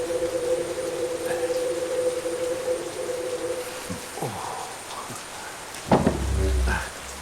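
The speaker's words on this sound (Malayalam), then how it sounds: "നല്ല മഴ" Heavy rain pours steadily in a Malayalam film scene, a dense continuous wash of noise with a sustained low hum running beneath it for most of the stretch.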